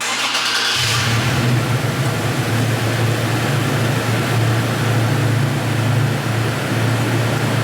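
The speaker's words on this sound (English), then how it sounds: "So, engine has started," A Toyota Tacoma TRD Pro, started by remote start inside a garage, cranks briefly and then fires up into a steady, fairly loud idle that continues to the end.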